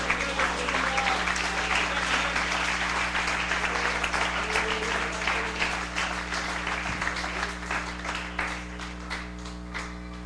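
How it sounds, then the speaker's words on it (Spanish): A church congregation breaks into loud, sustained applause that stays steady before slowly thinning out, with a low hum droning underneath. "Un aplauso al Señor."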